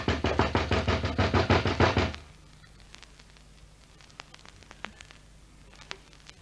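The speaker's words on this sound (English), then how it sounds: "Now, knock just once more." Rapid knocking on a door, a burst of about a dozen loud, close raps over two seconds, followed by quiet room tone with faint scattered clicks.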